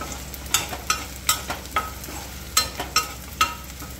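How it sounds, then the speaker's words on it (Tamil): Garlic sautés in sesame oil in a pan for a garlic pickle paste, a soft sizzle under repeated sharp stirring scrapes and clinks in an uneven rhythm, close by, with no talking. "இந்த மாதிரி நல்லா வதங்கணும்."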